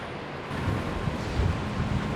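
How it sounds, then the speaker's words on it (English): Steady, gusty wind on the deck of the cruise ship Celebrity Beyond buffets the microphone with a low rumbling roar, continuous and fairly loud, with no other distinct sounds. "it's very windy, so pardon the wind"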